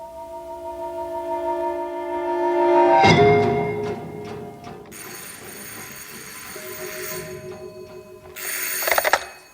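An old-style telephone bell rings loud and close at night in a home, a harsh metallic ringing burst followed by a quieter ringing stretch, then a sharp clatter at the end.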